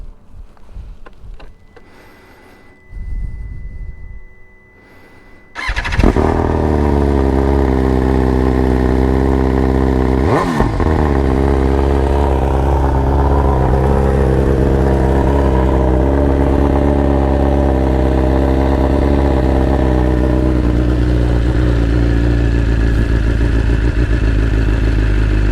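A 2022 BMW fitted with Black Widow exhaust headers starts up from quiet, then settles into a loud, steady idle with one sharp throttle blip partway through. No talk is heard over it.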